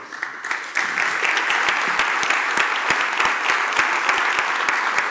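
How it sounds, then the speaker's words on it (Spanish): Audience applause at a 2017 Mercado Libre talks event, welcoming a speaker to the stage: dense, steady clapping from a sizable crowd that swells in loudly after a brief softer start and holds evenly throughout. "Pido un fuerte aplauso para Emiliano Chamorro."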